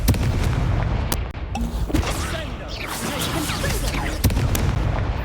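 Confringo blasting spells burst in Hogwarts Legacy combat, several sharp booming impacts scattered over a rumbling game soundscape, with a voice speaking briefly.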